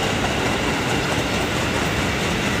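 A KRL commuter train passes close by in a loud, steady rush of rail noise with faint clickety-clack, filling the whole stretch without any voices.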